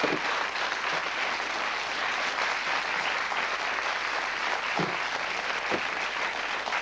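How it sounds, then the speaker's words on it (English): Studio audience on a television show breaks into dense, sustained applause, a continuous wash of many hands clapping at steady loudness, with a couple of brief thumps near the end. "give Annie a little round of applause"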